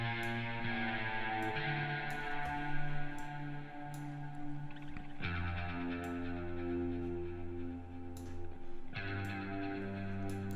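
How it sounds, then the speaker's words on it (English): A new electric guitar part in a produced song plays sustained, effected chords that change every few seconds over a ticking rhythmic backing, with no voices. "We have a new guitar part,"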